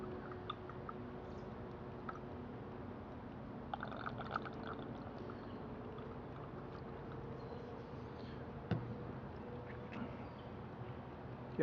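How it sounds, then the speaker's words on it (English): Alcohol trickles quietly into a Minibulldesign Voodoo 3 stove through a small hose, a faint, steady liquid pour heard up close in a calm setting. "When you put the alcohol in, it runs through the little hose"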